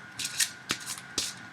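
Divination cards being shuffled for a reading give several quick riffling bursts and soft taps, close and quiet, with no voice.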